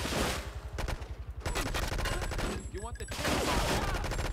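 Gunfire from a gun in Grand Theft Auto 3 crackles in loud, rapid automatic bursts, with rhythmic repeated shots broken by short pauses, up close and dominating the scene.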